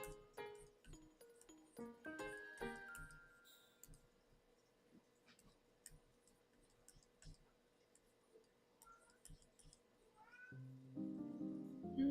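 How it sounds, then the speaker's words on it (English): A pet cat meows several times close by in a quiet room, with drawn-out, whiny calls at the start and a louder run near the end, plus faint clicks and taps in between. "My cat has decided it's time to be noisy"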